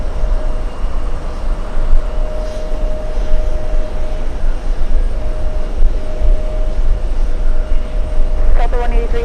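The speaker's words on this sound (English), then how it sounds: "That is Delta's flight from Rome." A Delta airliner arriving from Rome at JFK airport produces a loud, steady jet engine roar with a constant whine, sustained and close throughout, with a brief rattling burst near the end.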